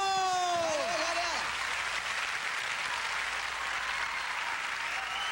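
Studio audience at a 1998 Brazilian TV music show applauding a pagode band, a dense, loud wash of clapping that holds steady, with a sung tone fading out at the start.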